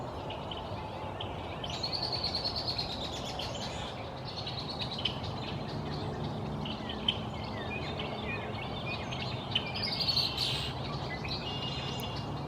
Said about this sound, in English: The loud calls of the red-winged blackbirds are a sure sign that spring is here.